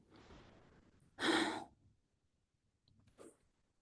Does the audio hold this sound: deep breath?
yes